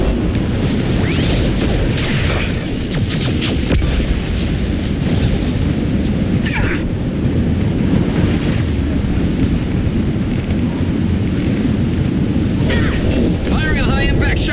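Flashbang blasts in Mass Effect 2 during a firefight, a dense continuous rumble of booms and crashes with scattered sharp bursts, loud and close throughout, with voices heard intermittently under the noise.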